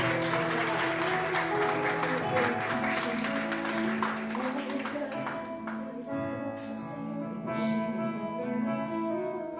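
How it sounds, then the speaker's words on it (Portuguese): Church congregation applauding in praise during an evening service, a steady burst of clapping that thins after about six seconds as sustained musical tones and a voice continue underneath. "E a igreja aplaude e glorifica o nome do Senhor."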